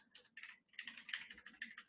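Rapid bursts of typing on a computer keyboard, irregular clusters of close key clicks with brief pauses between them.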